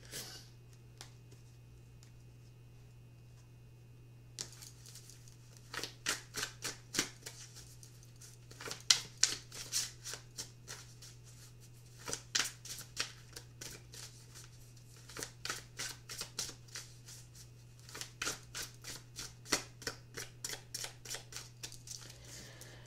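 Tarot cards being shuffled to clear the deck, bursts of crisp riffling and flicking in irregular clusters after a quiet start, close and alone over a low steady hum.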